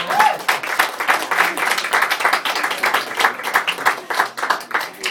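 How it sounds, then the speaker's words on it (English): Audience applause at a spoken-word performance show, a dense, steady clapping crowd that swells and holds for several seconds, fairly close and loud, with no talk over it. "You can clap now."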